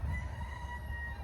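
A young backyard rooster, long submissive to an older rooster, crows faintly once, a short hoarse call over low rumbling background noise.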